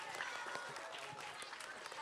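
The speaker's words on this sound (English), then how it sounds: "Big round of applause for Yaksha" Applause for Yaksha house at a school maths interhouse competition, a steady mass of clapping from a crowd that holds at even loudness for about two seconds with faint voices mixed in.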